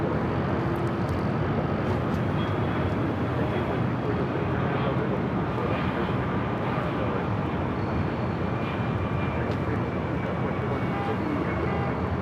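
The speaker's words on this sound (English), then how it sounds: "That was the flight coming in from Boston." Airliner arriving from Boston landing at LAX, a steady broad jet roar filling the whole span at constant loudness, no distinct pass-by peak.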